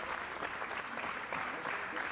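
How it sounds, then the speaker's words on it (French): Supporters clapping for a candidate arriving at his campaign headquarters in Strasbourg on regional election night, a dense, even wash of applause from a nearby crowd throughout. "Il est applaudi"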